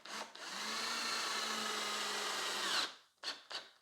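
A power drill drives self-tapping pocket screws into plywood in one long, steady, close whine lasting under three seconds, then stops, followed by two brief, quick bursts of the drill.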